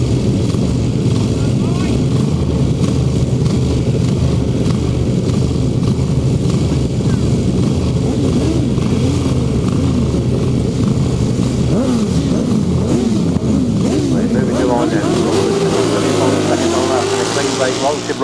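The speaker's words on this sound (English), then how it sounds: "we get this second 1000cc sidecar semi-final race" Several 1000cc sidecar outfits race on a grasstrack during a semi-final at the 2008 British Masters qualifier, their engines roaring loudly and continuously with rising and falling revs as they pass, while a commentator talks over them.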